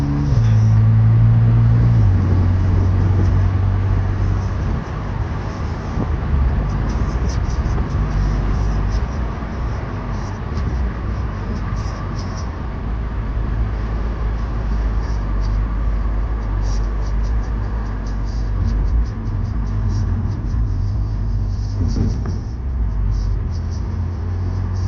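An Audi S5 with a supercharged 2.0 engine is driven on the road. A loud, steady engine drone and road roar fill the cabin, with a pronounced low engine tone at the start and a few faint voices underneath.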